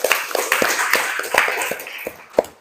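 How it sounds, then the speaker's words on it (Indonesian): A classroom of students applauding at the start of a lesson, a brief burst of irregular, fairly close claps lasting a couple of seconds. "Tepuk tangan dulu buat kalian."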